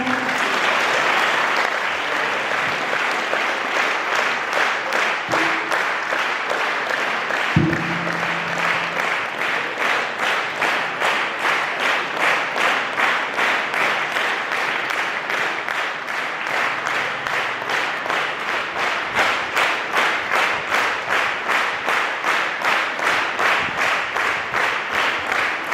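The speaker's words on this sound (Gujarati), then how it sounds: "મિશન સ્માઇલ અંતર્ગત જે લોગો પહેરાવી રહ્યા છે આપણે જોરદાર તાળીઓથી એકવાર" A school audience gives loud, sustained rhythmic applause as students on stage receive Mission Smile logos, the clapping falling into a steady pulsing beat that continues for the whole stretch.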